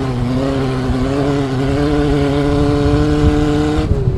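Onboard a prototype race car at the Antoing Cross Festival 2016, the engine on the cross track drones loud and steady at close range, its pitch climbing slightly as it pulls, with no speech over it.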